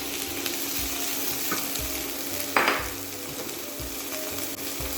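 Chopped tomato and capsicum going into a hot pan for paella, a steady crackling sizzle heard close up with a sudden bright hiss as the vegetables land, then a constant frying sound.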